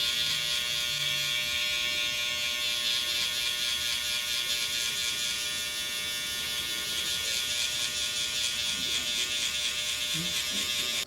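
Electric hair clippers buzz steadily while removing bulk from the underside of afro-textured hair, a continuous close motor whine that holds unbroken throughout with no talking.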